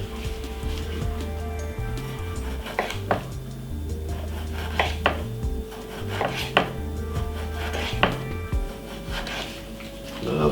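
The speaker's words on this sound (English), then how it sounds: "I'm gonna slice some tomato" Repeated knife strokes slice a tomato on a cutting board for a Jamaican meatball sandwich, sharp taps landing every second or so, close and clear over soft background music.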